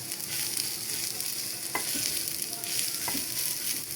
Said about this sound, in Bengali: মাছের সাথেই ভেজে নিই। 1 মিনিট ভাজলেই পেঁয়াজটার গন্ধটা চলে যাবে।